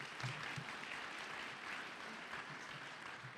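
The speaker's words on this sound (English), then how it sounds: "I think he deserves another round of applause." Graduation audience applauding at a Mid-State fall ceremony, a steady, dense wash of many hands clapping from a sizable crowd, fairly distant and even throughout with no voices.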